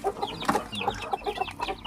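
Guinea fowl clucking close by, a quick run of short, choppy calls in an uneven rhythm, moderately loud against a quiet background.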